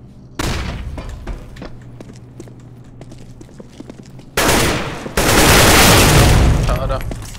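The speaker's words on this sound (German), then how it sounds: "Throwing a flashbang." A flashbang grenade is thrown and goes off in CS:GO, with steady gunfire-like cracks giving way to two loud, sustained broadband blasts that swamp everything, while voices talk underneath.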